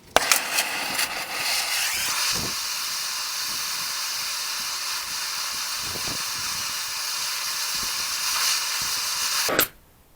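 A torch flame heating a 1-inch socket stuck on a Caterpillar part gives a steady close hiss with no pauses, and a few faint knocks and scrapes sit underneath.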